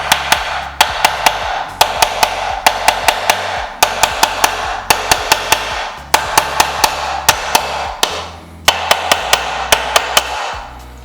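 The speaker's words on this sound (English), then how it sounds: "And we'll just take our hammer" Sharp metallic hammer taps while assembling an engine bottom end, in quick clusters of several strikes, repeated again and again with brief pauses between groups, close and crisp.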